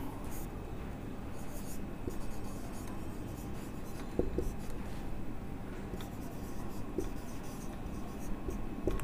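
Chalk or marker scratching across a board in a chemistry lecture, a steady soft scraping rubbed stroke by stroke with a few sharper taps, close and continuous with no talk.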